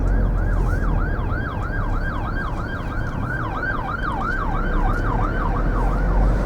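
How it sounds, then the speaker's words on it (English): An ambulance siren wails in a steady, repeating up-and-down sweep as the vehicle passes close by an allotment, loud and continuous over a low rumble of road traffic, with no talking. "Just give way to this ambulance."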